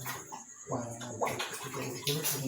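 Water runs steadily during a hair wash at a hair and skin clinic, a close splashing hiss with people talking over it.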